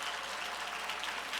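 A church congregation applauds during a Sunday sermon, a soft and steady wash of many hands clapping at a distance, with no voices over it.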